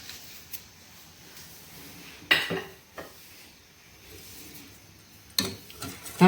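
Cardamom powder is stirred into a pan for gulab jamun, with a few sharp clinks and scrapes of a spoon against metal over quiet background hiss, close and intermittent.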